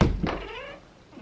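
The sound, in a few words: pet cat meowing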